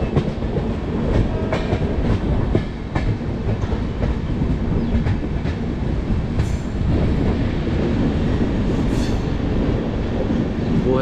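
The 04652 Amritsar to Delhi special train rolls steadily along the rails, a loud continuous rumble with rhythmic clickety-clack wheel beats and brief high squeals near the end, heard up close with no voices.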